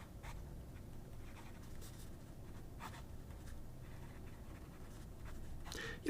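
A Jinhao 82 mini fountain pen with a No. 5 nib, running a little dry, scratches steadily across paper in soft, close strokes over a low background hum.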